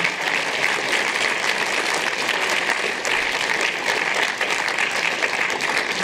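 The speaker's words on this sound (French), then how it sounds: "Sous applaudissements, applaudissements, applaudissements." Audience applause after a film screening Q&A at the PIFFF 2021 festival: dense, steady clapping from a full room, loud and sustained throughout with no talk over it.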